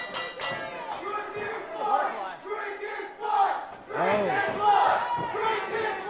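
A dense crowd at a 880 Wrestling Thursday Night Fights event in Pittsburgh roars, shouting and cheering in loud overlapping waves that swell and ebb, with a few individual voices breaking out above the din.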